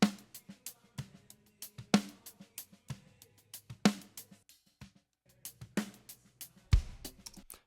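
Drum kit heard through overhead microphones in a Pro Tools mix, sharp cymbal and snare hits with kick thumps in a steady pattern, close and punchy with short decays between strikes.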